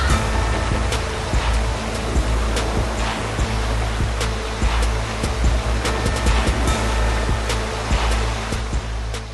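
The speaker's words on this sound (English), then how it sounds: "Like the Thar, the Duster too makes the river crossing look easy." A Renault Duster SUV in all-wheel drive fords a river with a current, a steady loud rush of water and surf-like wash over a low engine rumble, with scattered splashes and thumps throughout.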